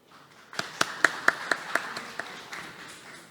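A small audience at a Korean policy seminar claps for a university professor who is about to present. There are about eight distinct, fairly sparse claps over three seconds, and they fade out quickly.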